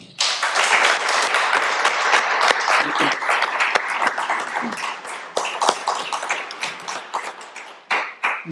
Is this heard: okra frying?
no